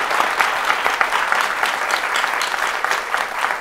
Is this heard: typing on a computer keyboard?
no